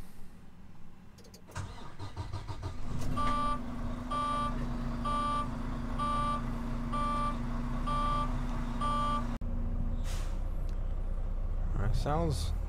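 A 2020 Volvo VNL 860 truck engine cranks and fires, settling into a loud, steady diesel idle with a repeating electronic chime pattern over it; a voice speaks briefly near the end.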